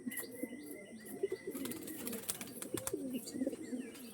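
Andhra pigeons keep up a low, repeated cooing, several throaty phrases overlapping at a moderate distance, with no voices.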